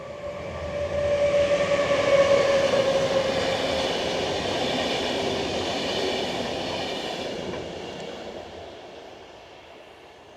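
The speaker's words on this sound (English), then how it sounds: "Train watch." A train passes nearby at night, a rumbling roar with rattling cars that swells early, holds, then slowly fades into quiet, with a thin wheel squeal near the start.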